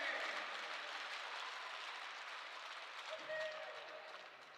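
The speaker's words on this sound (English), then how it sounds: "everyone give him a round of applause" Arena crowd at a university ice hockey game between Wyoming and Colorado State applauds a player on his birthday, steady broadband clapping fading slightly over several seconds with a brief tone near the end.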